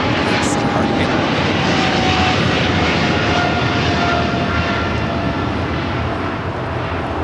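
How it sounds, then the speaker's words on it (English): Boeing 777 freighter operated for DHL taking off at LAX, heard as a loud, continuous, broadband jet roar throughout. "This is DHL, operated by Coletta Air 230, taking off to Seoul on the 777 freighter."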